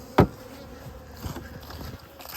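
Honey bees buzz around a hive during fall syrup feeding, a soft, busy insect hum close by, opened by one sharp knock or tap.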